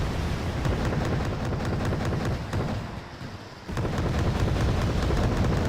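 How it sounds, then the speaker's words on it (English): HE napalm strike landing in Wargame Red Dragon, a loud sustained roaring rumble with crackling bursts that dips briefly near the middle and then surges back at full force. "Berntino does do a pretty nice HE explosion now when it lands"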